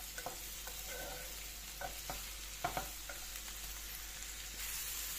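Chopped mushrooms and peppers sautéing in a pan for an omelette, a quiet soft sizzle with a few light scrapes and taps of stirring.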